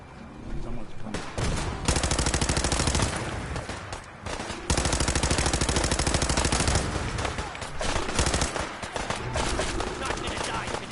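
Rapid bursts of gunfire in the video game Fallout 4, loud and dense volleys repeating across the scene with brief lulls, mixed with shouting voices and battle noise.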